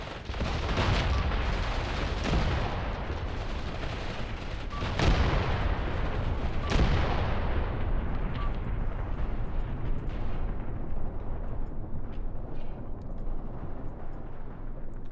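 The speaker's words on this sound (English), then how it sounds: "You have the bow gun firing off." Tank bow gun and coaxial machine gun firing in the Graviteam Tactics game, loud bursts and heavy booms over a dense rumbling battle din that slowly fades to a distant, thinner roar.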